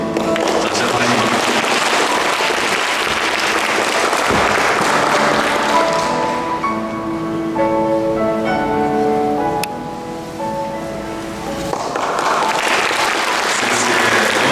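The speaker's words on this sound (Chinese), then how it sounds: "掌声欢迎。" Applause from the audience at the 2019 Kaohsiung Award ceremony, loud and dense for several seconds, then giving way to a stretch of tonal music before the clapping swells again.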